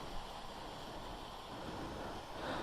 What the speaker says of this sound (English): here's the little waterfall area. That one generally flows quite a bit more